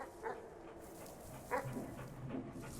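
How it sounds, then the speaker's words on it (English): A dog in the Animal Well video game gives a few short, soft barks spaced about a second apart, faint against a hissy game background. "Oh, it is another dog."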